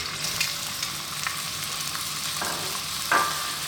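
Onions and fresh chili sizzle steadily in hot oil with curry leaves, garlic, ginger and pandan for a Sri Lankan fish curry, a dense continuous frying hiss with a couple of brief stirring scrapes, close and alone.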